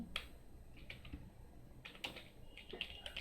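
Keys tapped on a computer keyboard while an email subject line is typed, scattered clicks in short bursts with pauses, fairly quiet and close, with no speech.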